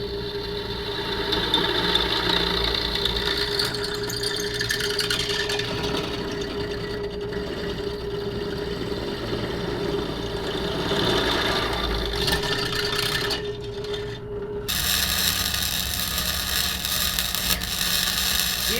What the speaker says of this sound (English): So let's go ahead and get this drilled.